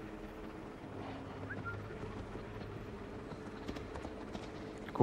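A horse's hooves clip-clop steadily at close range in the Assassin's Creed Valhalla video game, a continuous rhythmic trot over rough ambient background noise.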